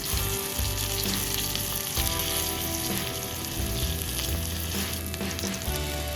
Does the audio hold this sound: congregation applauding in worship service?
no